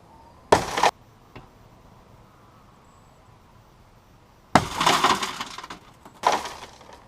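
Tinted car window glass smashed with a spring-loaded pointed window breaker: a sharp snap early, a faint tick, then a louder crunching shatter with crackling fragments and a second crack, loud and close.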